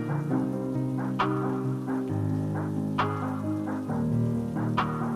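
Rain falls steadily on a street, a constant loud wash that runs under music with sustained chords and soft rhythmic thumps.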